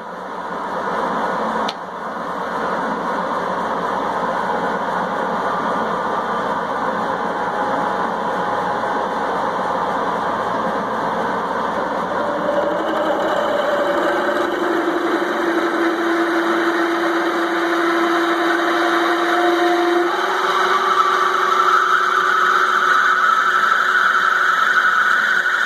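A Moore #3 jig borer runs at low speed, about 900 RPM, drilling with a large bit: a steady, close mechanical hum with gradually rising whining tones as the cut proceeds, no talking.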